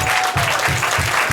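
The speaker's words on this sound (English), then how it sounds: "Everybody give them all a round of applause." Audience applause for the cast of a church play of the Story of Esther, a steady dense wash of clapping heard close throughout the short stretch.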